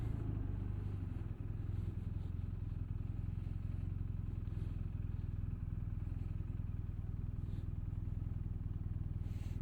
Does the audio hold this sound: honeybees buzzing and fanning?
no